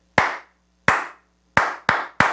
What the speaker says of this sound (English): I'm gonna clap it.